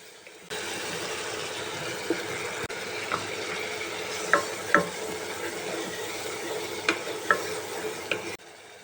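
Spices, onion, chilies and shrimp stir-frying in a pan, a steady close sizzle broken by sharp scraping clicks of a spatula against the pan, with no voices.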